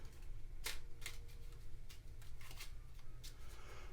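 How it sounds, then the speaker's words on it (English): A deck of playing cards being shuffled by hand at a tabletop during a solo roleplaying game, giving several brisk riffling bursts over a low steady background hum, with no talking. "Shuffle this deck a little bit."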